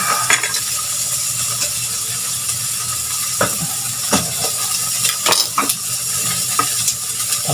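Dried surahan fish sizzles in a pan, a steady loud frying hiss broken by sharp clicks and scraping taps of a utensil against the pan.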